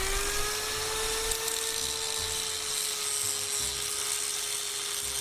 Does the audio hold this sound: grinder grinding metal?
yes